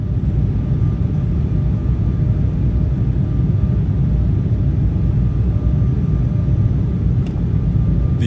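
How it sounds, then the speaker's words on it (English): A Southwest Boeing 737 jet airliner landing in Denver roars steadily, a constant low rumbling wash of engine noise that stays fairly loud throughout. "This Southwest Boeing 737 landing parallel to a United plane in Denver."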